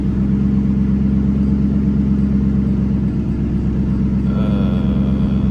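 A car engine idles at a steady low rumble, loud and close, with a slight shift in tone near the end as the idle speed is adjusted.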